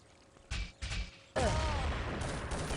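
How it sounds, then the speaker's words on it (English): A grenade goes off in a match of the shooter game Urban Zone: a couple of short thuds, then a loud sustained blast with a rumbling tail, heard alone. "Good nade there by the Portuguese"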